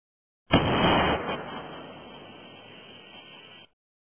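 The U.S. Navy's electromagnetic railgun fires with one abrupt, loud crack, followed by a long, even roar that cuts off sharply about three seconds later.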